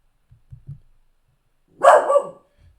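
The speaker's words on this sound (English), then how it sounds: "Apologies for the dog." A dog in a quiet room lets out a single sharp bark, close and loud, preceded by a few soft low thumps.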